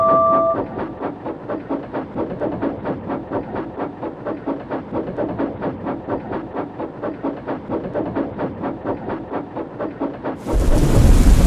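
A thunderstorm with fierce wind and lashing rain produces a loud, rhythmic pulsing roar. A heavier, deeper rumble of thunder swells in near the end.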